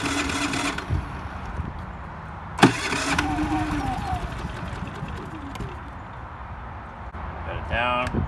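A Generac IQ3500 inverter generator is pull-started on choke with a sharp rip of the cord, then its engine catches and runs steadily up close, with a few clicks and rattles near the end.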